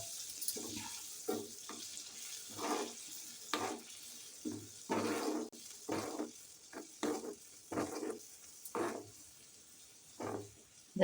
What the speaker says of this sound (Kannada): ಇದೊಂದು 5 ನಿಮಿಷ ಚೆನ್ನಾಗಿ ಕುದಿಬೇಕು.